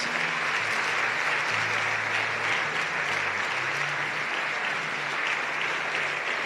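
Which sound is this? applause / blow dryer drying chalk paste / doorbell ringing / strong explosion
applause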